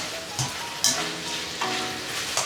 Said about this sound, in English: And then you hear it starts to sizzle.